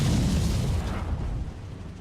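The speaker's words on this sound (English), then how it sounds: "You just need to dodge where the explosion will be." Gunpowder bundle thrown by an enemy exploding in the video game Sekiro, a loud booming blast that rolls out and slowly decays over two seconds, with no talking.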